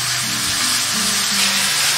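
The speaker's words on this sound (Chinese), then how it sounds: "这个火力的话，最好是保持中大火煎" Oysters pan-fry over medium-high heat with a loud, constant close-up sizzle and hiss, broad and unbroken for the whole moment, with no voices.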